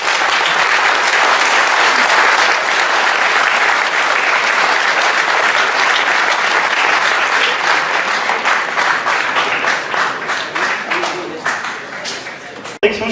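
A large audience at a tournament in Paris applauds loudly and steadily, the clapping dense and sustained, thinning toward the end, with voices mixed in.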